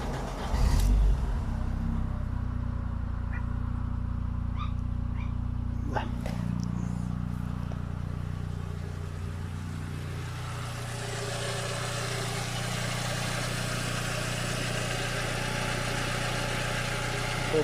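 VW Passat B5.5 with a 1.6 ALZ petrol engine idling after a timing belt job, a steady low hum close by with a few brief clicks early on, continuous throughout with faint voices in the background.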